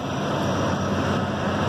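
The Red Jet fast ferry passes off the Isle of Wight, a loud steady roar of engines and rushing water filling the short stretch, with no voices over it.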